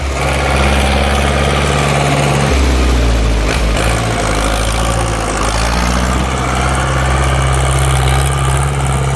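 A Ford New Holland 6610 farm tractor engine running close by, a loud continuous diesel drone with deep rumbling and a slight shift in pitch partway through, steady throughout.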